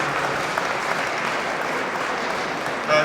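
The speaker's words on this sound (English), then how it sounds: "Give a round of applause, please" Sustained applause from a banquet audience at a robotics awards ceremony, a steady dense wash of clapping that holds evenly for about three seconds.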